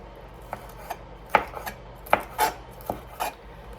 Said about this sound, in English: the green pepper into thin strips